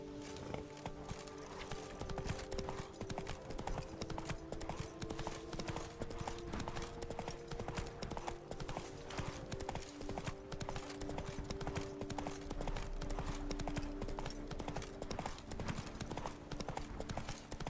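Rapid rhythmic hoofbeats of the horse galloping in The Witcher 3: Wild Hunt, a steady drumming of clops throughout with a low game hum underneath.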